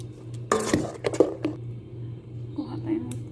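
Batter for Arabian sebeb being mixed in a bowl, with a few sharp clinks and scraping strokes of a utensil against the bowl over a steady low hum, followed by softer squishy stirring.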